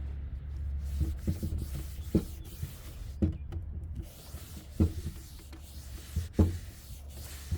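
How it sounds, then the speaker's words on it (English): Scratchy rubbing strokes of 120-grit sandpaper on a wooden side table, repeated in short irregular bursts over a low steady hum, close and moderately loud. "sanding off the small little bit that is left with some 120 grit sandpaper."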